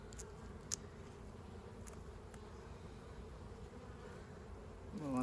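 Carpathian honey bees buzz at an open hive frame, a steady, faint, even drone that runs unbroken throughout with no one speaking.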